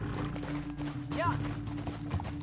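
Horse hooves clip-clop in a steady quick rhythm in the video game Red Dead Redemption 2, under a constant low hum, with a voice speaking briefly over the top.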